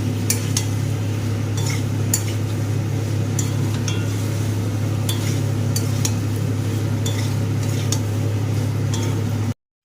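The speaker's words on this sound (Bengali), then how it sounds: "এবার মশলাটাকে ভালো করে পেঁপে আলুর সাথে কষিয়ে নেব।" Ground cumin, coriander and pepper paste being stirred and fried with papaya and potato in a pan, a steady sizzle with scattered clinks and scrapes of a spoon against the metal, close and continuous.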